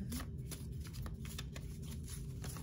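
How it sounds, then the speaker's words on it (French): Tarot cards riffle and slide as a deck is shuffled by hand, a continuous close papery flutter with soft flicks throughout. "C'est la première carte qui tombe."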